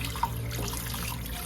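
Tap water runs steadily into a sink while lentils are washed, a soft continuous splashing flow.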